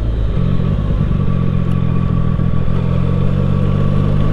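A CF Moto 675 SR-R motorcycle engine during late braking, heard as a loud, steady throbbing drone close up with a fluttering low rumble and no talk.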